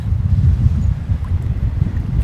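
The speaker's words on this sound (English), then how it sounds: "it's really almost impossible to fight against some of these gusts." Strong wind gusts over a lake on a cold spring canoe trip batter the microphone with a deep, rumbling roar that surges and dips, close and loud.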